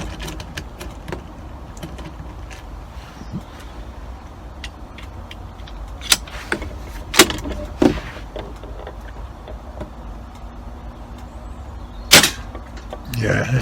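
A BSA rifle firing at a target: a few sharp, isolated cracks spaced seconds apart over a low steady background, with occasional faint voice nearby.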